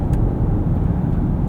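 Steady tire and road roar inside a 2025 Genesis GV80 3.5T AWD Prestige riding on Michelin tires: a continuous low rumble at an even level throughout, with no talking.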